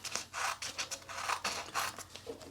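Scissors snip through thin paper, a quick run of crisp, close cutting strokes in an uneven rhythm, with no voices.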